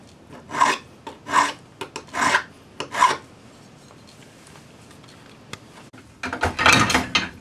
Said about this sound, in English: when you get all of your saw marks filed off, then sand it.